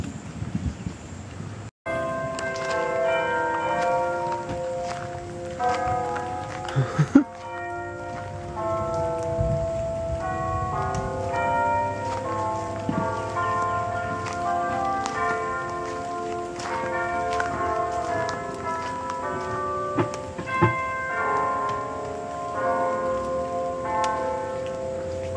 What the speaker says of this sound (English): They got weird electronic church bells in this forest.